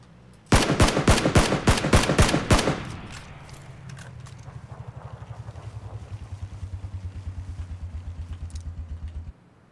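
Gunfire in the video game PUBG: a rapid burst of about nine loud, close shots, followed by a long, even stream of quieter rhythmic pulses, like a vehicle engine or distant automatic fire, fading out.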